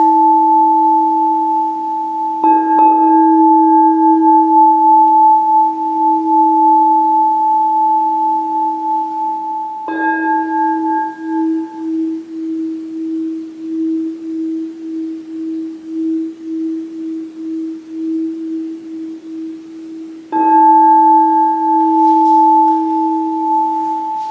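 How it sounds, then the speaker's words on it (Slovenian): Crystal singing bowls ring out with pure sustained tones, struck three times, each long shimmering note slowly wavering and fading under the next strike. "Poglejmo, kako se oglašajo pa kristalke."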